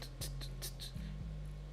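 Short bright hi-hat ticks from a programmed FL Studio pattern, filled every two steps, repeat quickly and evenly over a low droning beat with kick thumps, all played quietly and without talk.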